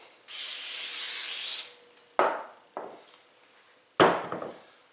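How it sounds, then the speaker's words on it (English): One long, continuous hiss of cooking oil spray greasing a board for bread dough, lasting about a second, followed by a few dull knocks and thumps. "Actually, I'm going to grease the board a little."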